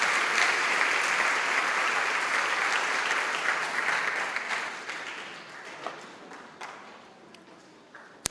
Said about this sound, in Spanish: Le damos un aplauso al que vive.